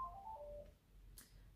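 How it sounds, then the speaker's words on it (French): A telephone sounding with a short electronic tone sequence, a few quick beeps followed by a brief bright burst, faint in a quiet indoor room with no talking. "Maintenant, c'est le téléphone, pardon."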